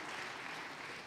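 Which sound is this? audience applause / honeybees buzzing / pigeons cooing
audience applause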